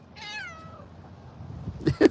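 A cat gives one drawn-out, falling meow at close range, followed by a couple of short, louder rustling thumps near the end; no speech is heard.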